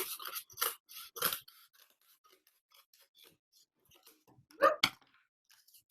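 A few crisp scissor snips cutting cardboard pieces for a weaving loom, three quick cuts early then a louder pair of close snips later, with quiet handling noise between.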